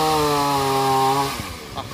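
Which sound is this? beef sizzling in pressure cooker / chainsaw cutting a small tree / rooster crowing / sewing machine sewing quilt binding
chainsaw cutting a small tree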